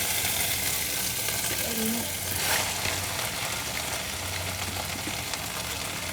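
Steady sizzling of yellow noodles stir-frying in a pan with occasional scraping stir sounds, continuous and close, with a brief burst of hiss partway through.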